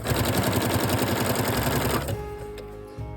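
Sewing machine stitching a seam to attach a skirt on a costume, a fast steady mechanical rattle close up for about two seconds, then stopping and leaving quieter handling sounds.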